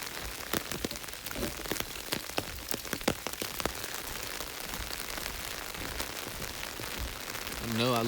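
Steady rain pattering on surfaces all around a homestead driveway, with scattered louder drips close by and a brief low rumble near the end.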